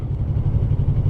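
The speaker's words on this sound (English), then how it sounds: "that's engine braking." A motorcycle engine braking with the throttle closed, a steady low throbbing rumble with a loping rhythm, close and fairly loud, with no voices.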